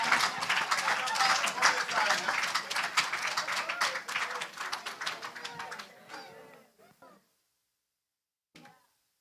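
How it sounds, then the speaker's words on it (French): A church congregation claps together in praise, dense sustained applause under raised voices that gradually thins out and stops, followed by a few scattered claps. "Frappez main, on nous acclame la présence de Dieu."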